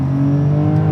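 A 2021 Porsche 911 Turbo S gathering speed, a steady loud engine drone with a slight rise in pitch across one brief second, close and alone.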